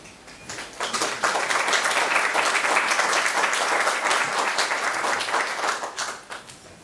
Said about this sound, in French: Les applaudissements, ça va à la fin